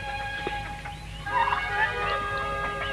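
Artificial bird calls from a 1981 science-fiction film, gobbling, warbling fowl-like sounds over a steady tonal hum, moderately loud and continuous.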